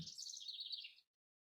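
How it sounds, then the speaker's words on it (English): A bird chirps in a quick run of high, bright notes for about a second, then stops, leaving silence. "I'm listening to the birds"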